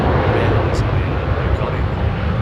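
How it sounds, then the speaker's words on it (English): Finnair airliner landing at Heathrow Airport, a loud steady jet engine roar that fills the whole stretch without letting up, with people talking over it. "Finnair landing shot."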